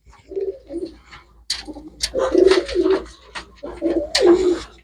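Pigeons being checked for sale give loud, close throaty coos in several rolling bursts, separated by short pauses, with no talking.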